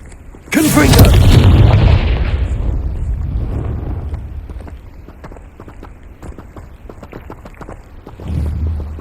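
A Confringo fire spell bursts in Hogwarts Legacy with a loud, close boom that decays over a couple of seconds into a rumbling tail, followed by quieter rustling and a low thump near the end.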